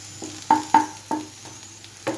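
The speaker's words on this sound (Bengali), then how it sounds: "ঠিক এরকমভাবে কিন্তু ফ্রাই করতে হবে যে একটু লাল লাল হবে, এইভাবে ফ্রাই করে নিতে হবে।" Beans and new potatoes fry in a pan, with a low, steady sizzle broken by five or six distinct scraping and stirring knocks of a spatula, close and moderately loud.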